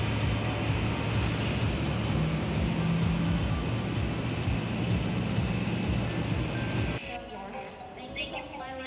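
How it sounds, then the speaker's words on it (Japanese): A steady, loud roar of a jet airplane engine drones continuously in Makati, Manila, then drops off abruptly, leaving quieter ambient noise. "こうやって飛行機を眺めてるだけでもすごく楽しいですね"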